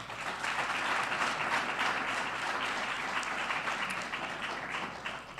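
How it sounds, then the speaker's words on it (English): An audience at a mayoral candidate forum in Albuquerque gives the 2021 candidates a big round of applause, a steady, full crowd clapping that holds evenly and eases slightly toward the end. "Please give them a big round of applause."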